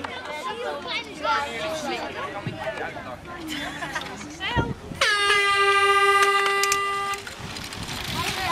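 An air horn blows one long, loud, steady blast lasting about two seconds at the opening of a bike cross track, following a stretch of a crowd chattering and someone talking.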